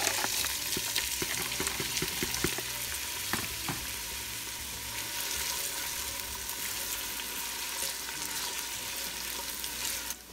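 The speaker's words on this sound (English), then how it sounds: "once your oil has heated up, you're gonna add in your onion and your ginger, and you're gonna brown them both" Chopped onion and grated ginger frying in hot oil, a steady broadband sizzle throughout with a few light utensil taps early on, close and even, no voices.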